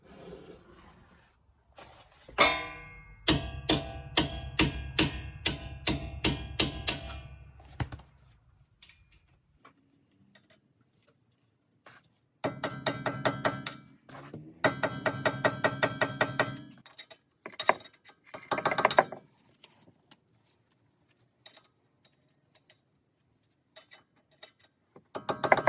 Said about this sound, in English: The chiseling goes on for quite a while as well, and it's not making a ton of progress